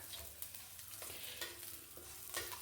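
Ginger, garlic, green chillies and curry leaves fry in oil for a pickle. A soft, close sizzle runs throughout, broken by a few stirring scrapes and clinks.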